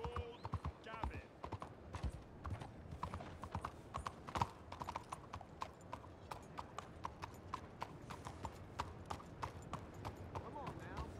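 Horse hooves clip-clop at a steady trotting rhythm while riding in the Red Dead Redemption 2 video game, a close run of sharp, regular strikes with someone talking over them.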